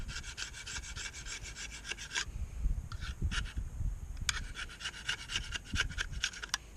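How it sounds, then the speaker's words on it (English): A hand scraper works old gasket material and corrosion off a 9.5 hp Evinrude outboard motor in close, steady rasping strokes, pausing briefly midway before the rhythmic scraping resumes. "Scrape this gasket material off of here and whatever corrosion built up."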